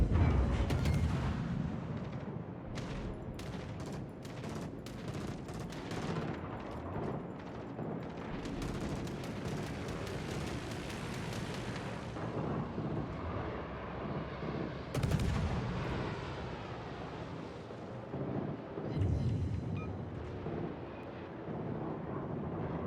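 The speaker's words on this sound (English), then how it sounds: "Hey, someone's shooting at me!" Gunshots crack through a video game battle in bursts, with heavy booming blasts and rapid clusters of fire, loud and close, over a dense rumbling background of explosions and distant combat.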